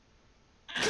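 A single abrupt sneeze bursts out near the end, loud and close after a quiet room hush.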